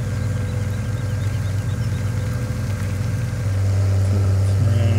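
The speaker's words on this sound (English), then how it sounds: "That's a little tractor." A small tractor engine idles in Farming Simulator 17, a steady low rumbling chug that grows slightly louder and smoother toward the end, with nothing else over it.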